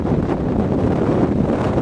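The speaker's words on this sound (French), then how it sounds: "Le vent qui n'en finit pas, qui n'en finit jamais à la Concagua." Strong, unceasing wind on Aconcagua mountain at high altitude, a loud roaring buffet battering the microphone in continuous gusts with a low rumbling rush.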